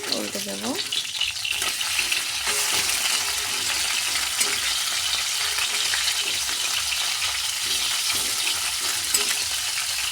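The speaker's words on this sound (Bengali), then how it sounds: "মাছগুলোকে এবার উল্টে দেবো।" Just-flipped belle fish fry in oil in a kadai, giving a loud, close, continuous sizzle. A few utensil scrapes and clatters come early on, then an even crackling hiss carries on to the end.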